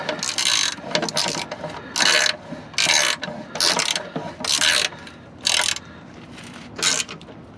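Ratchet tightening reverse Torx bolts on a Jeep Wrangler starter, about eight short bursts of rapid clicking separated by brief pauses, close and clear with no talk.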